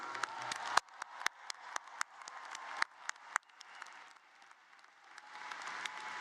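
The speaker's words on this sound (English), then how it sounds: "Give them your applause for their support of your life." An audience at a college commencement applauds, bursts of clapping with sharp individual claps over a steady crowd patter that thins toward the end.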